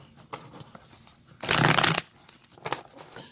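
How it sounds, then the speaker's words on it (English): A deck of tarot cards is shuffled in one quick, loud riffling burst, close by, with soft card handling and taps before and after in a quiet room. "I'll do one more shuffle on this deck."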